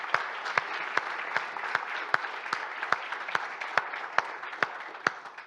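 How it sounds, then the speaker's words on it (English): An audience at a just transition conference applauds steadily for several seconds, a dense wash of many hands with a few sharper individual claps standing out at a regular pace. "Big round of applause."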